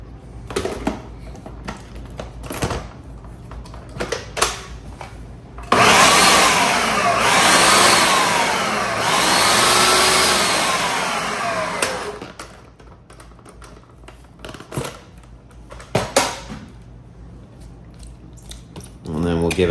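A food processor whirs loudly through a batch of guacamole for about seven seconds, its motor pitch wavering as the contents churn, with quieter kitchen clatter and talk before and after.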